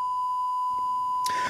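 A phone gives a low battery warning as one steady, high electronic beep that lasts the whole moment, ending with a brief rustle.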